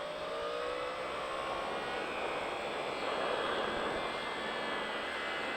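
Yamaha R1 sport motorcycle accelerating hard on a racetrack, a loud, steady high-pitched engine roar with wind rush, heard close from onboard with no talking.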